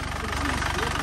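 An engine freshly topped with new Repsol oil and oil stabilizer idles close up, its low, even throb holding steady through the brief moment.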